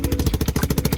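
A Lifan KP Mini 300 motorcycle with a swapped-in ZS175FMN 4-valve engine runs nearby, exhaust barking straight from the head through a KP 150 pipe in a rapid, even, loud chuffing pulse.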